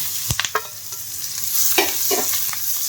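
Grated bottle gourd sambharo sautés in hot oil with asafoetida over a low flame, giving a steady soft sizzle broken by a few sharp clicks and scrapes of stirring.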